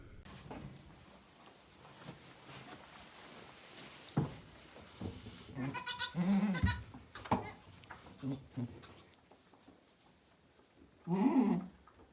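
Newborn goat kids bleat in a few short, close cries scattered through a quiet indoor scene, with soft handling noises and faint rustling between them.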